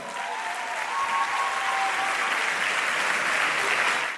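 An audience at a live pop-rap concert bursts into sustained, dense clapping and cheering that swells and holds steady for several seconds before cutting off.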